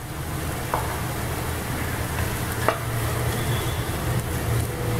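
Vegetables for prawn fried rice hiss in a steady stir-fry sizzle in a hot pan, broken by a couple of sharp utensil scrapes and clicks, with no one talking.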